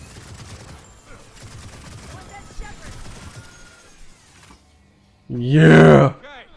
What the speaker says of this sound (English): I got the big machine gun.